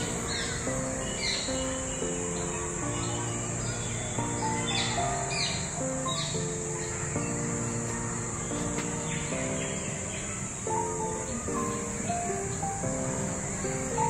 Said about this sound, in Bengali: তার সাথে নানান প্রজাতির পাখির নিরবচ্ছিন্ন কলতান।